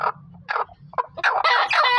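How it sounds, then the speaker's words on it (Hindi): Chickens, including a restless rooster, cluck close by in short, repeated bursts, getting louder and busier toward the end. "ये देखें, ये मुर्गा बहुत बेचैन है बाहर जाने के लिए।"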